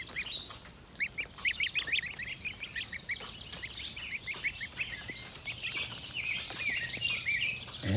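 Domestic geese or ducks honking in a spring permaculture orchard on short grass, a flurry of repeated close honks and calls that start dense and loud, then continue more sporadically.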